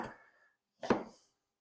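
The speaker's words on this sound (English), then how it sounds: "We're going to actually just slice it into thin slices." A knife slicing cooked chicken into thin slices: one soft cut, then a sharper, slightly louder cut, both brief and fairly faint with quiet between them.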